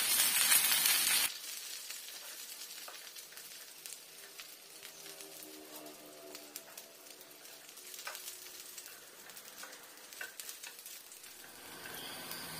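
Gujarati muthiya shallow fry and are turned in a pan: a loud burst of sizzle at first, then a steady softer crackle with scattered spatters and stirring clinks, close and continuous.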